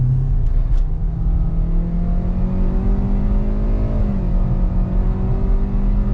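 A Hyundai Verna's engine idles in a close, steady rumble, then revs up briefly and settles back down, heard alone without talk.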